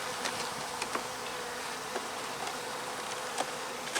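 Honeybees hum in a steady, moderate drone around an open hive during an inspection, with a few faint clicks and knocks of frames rising over the constant buzz.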